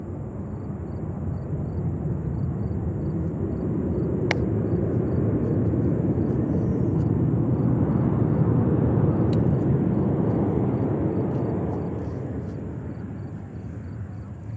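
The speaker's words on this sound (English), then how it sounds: "Here she comes. 747-400 coming from Anchorage." A Boeing 747-400 airliner arriving at JFK airport, inbound from Anchorage, produces a steady loud jet roar that swells toward the middle and then slowly fades, with faint clicks in the background.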